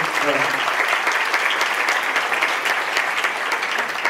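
A meeting audience at a university professional development gathering claps steadily for a new member, a dense, even wash of applause throughout, with a brief voice at the start.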